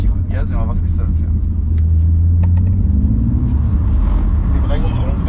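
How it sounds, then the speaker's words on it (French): Car turning on a track with a short throttle blip, steady engine rumble and a rising tone near the middle, with voices talking over it throughout. "tu vas tourner et tu vas mettre un petit coup de gaz et on va voir ce que ça va faire"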